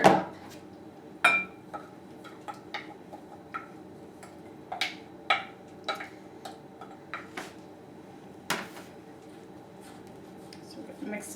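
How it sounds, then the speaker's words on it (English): Sticky oat muffin batter is stirred in a bowl, making scattered sharp clinks and taps of a utensil against the bowl at an uneven pace over a quiet background. "So now I'm just going to stir this up a little bit."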